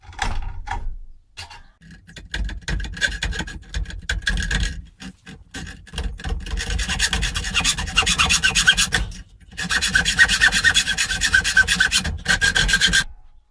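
A hand saw fitted with an 18 teeth per inch blade rasps through metal on a gas cylinder being made into a wood burner, close and rhythmic back-and-forth strokes with brief pauses between bursts of cutting.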